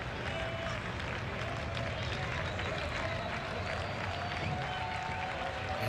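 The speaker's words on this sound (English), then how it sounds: "Yankee fans starting to clap" Yankee fans clapping in the stands at a baseball game against Pittsburgh, a steady, dense wash of crowd applause held at an even level throughout, with distant crowd murmur mixed in.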